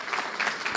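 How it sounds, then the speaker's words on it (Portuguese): An audience at a lecture on multi-ownership of movable goods gives Emílio a short burst of applause, a close wash of clapping swelling in a few uneven pulses. "eu pediria uma salva de palmas para ele"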